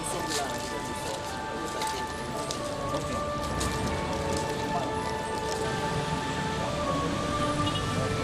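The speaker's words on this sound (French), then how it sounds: "Il pleut depuis des heures" Steady rain falls continuously, a dense broadband patter with faint tonal hum beneath, constant and fairly close throughout.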